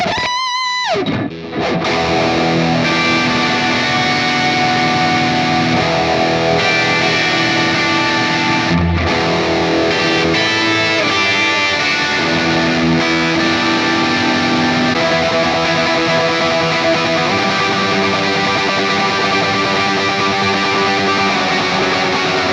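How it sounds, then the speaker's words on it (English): Heavily distorted, high-gain electric guitar through a Line 6 Pod Go rings out continuously, loud and dense with sustained chords and a brief break early on. "If you combine high gain sounds with lots of reverb and delay, you get shoegaze."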